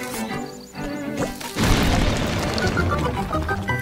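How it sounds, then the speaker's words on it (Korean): A bomb goes off in Zelda: Link's Awakening, a sudden loud booming crash after a quiet moment of game music, with the rumble lingering for a couple of seconds. "폭탄 놓고."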